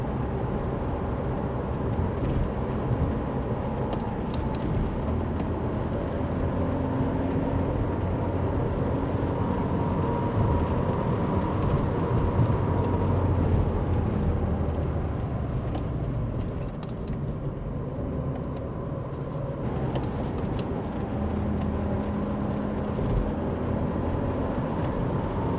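An Alfa Romeo 159 2.0 JTDm diesel car on a test drive, heard from inside. Its engine and road noise make a steady, continuous drone that stays fairly even throughout, with no talking.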